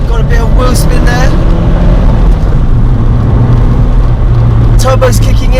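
A turbocharged Nissan Silvia S15 Spec R engine pulls hard under acceleration, a loud continuous droning roar that holds steady throughout, with someone talking over it.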